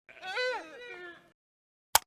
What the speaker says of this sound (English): Deer.